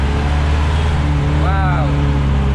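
A Mahindra Maxi Cab school van engine at full throttle makes a loud, steady drone with a heavy low rumble throughout. A voice briefly sounds over it near the middle.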